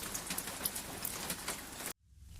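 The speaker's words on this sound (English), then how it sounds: "a tiny rain starts" Soft, gentle rain patters with scattered light drops, then cuts off suddenly into near silence.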